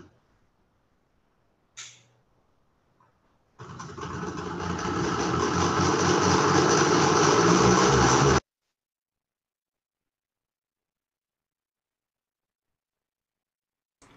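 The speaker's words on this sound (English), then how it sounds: "motorcycle action was a bit too loud there" A motorcycle engine roars loud and close for about five seconds, building steadily in volume before cutting off abruptly, with quiet before and after and no talking.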